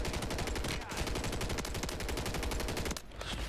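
Rapid automatic gunfire from Call of Duty on Rebirth Island, a dense continuous burst of loud shots that briefly breaks off and then resumes.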